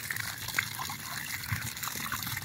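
Water pumped from a newly drilled borehole pours and splashes continuously, a close, steady gush with trickling and dripping detail.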